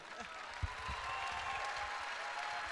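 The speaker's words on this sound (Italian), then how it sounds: "Se applaudite tanto così, dopo non faccio più l'intervista" An audience at an Italian political talk-show event applauds continuously, a dense sustained patter of many hands clapping throughout, with a voice faintly audible beneath it.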